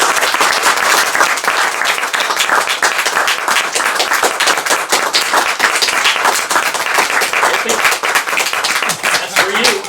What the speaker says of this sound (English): people tend to really applaud.